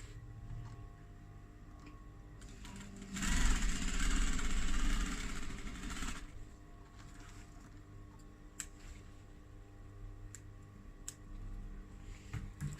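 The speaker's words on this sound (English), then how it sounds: "put your seam to the faux leather and top stitch" A sewing machine top stitches a seam on faux leather for a clutch wallet, running in one steady burst of about three seconds before stopping, with quiet room hum around it.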